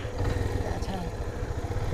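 A motorcycle engine rumbles while riding downhill on an unpaved hill road, a close, steady throb heard under continuous talking.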